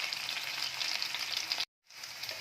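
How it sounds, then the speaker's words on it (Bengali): Chicken pieces frying in a pan sizzle steadily and fairly close, a continuous hiss broken by a short gap of silence before resuming, with no talking. "প্রত্যেকটা চিকেন একদম সব দিক থেকেই যাতে লাল হয়ে যায় সেইভাবেই আমি পুরো এটাকে ফ্রাই করে নেবো"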